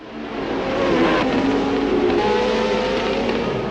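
Formula 1 race cars from the Hunt and Lauda era roar past at Paddock Bend, a loud, sustained engine scream that swells quickly and holds with a shifting pitch, no voices over it.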